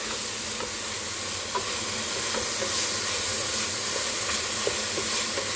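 A pot of black and red bean soup with dried chili flakes, thyme, rosemary and basil sizzles steadily, a continuous hiss with small pops and crackles scattered through it, close and unbroken by talk.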